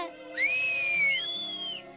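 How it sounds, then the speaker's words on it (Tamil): A child whistles loudly in one sustained, wavering tone that slides down and back up, clear and close in a quiet setting with no talking. "சத்தமா விசில் அடிக்கவும் கத்துக்கிட்டேன்."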